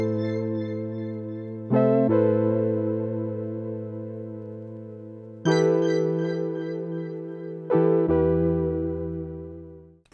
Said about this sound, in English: So the next one is this bell, and it's also from dreamsynth. It is the Little Reminders preset.